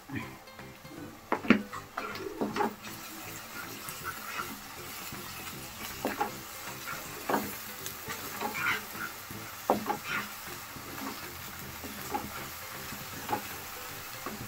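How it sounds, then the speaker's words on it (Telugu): Onion, garlic and ginger-garlic paste fry in a pan with a steady sizzle. Spatula strokes scrape and clink against the metal throughout, and a voice speaks at times. "కొంచెం తెల్లగడ్డ, ఎర్రగడ్డ ఈ అన్ని పచ్చివాసన పోయేదాకా బాగా వేయించుకోవాలి"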